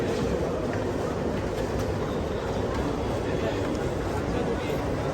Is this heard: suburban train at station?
yes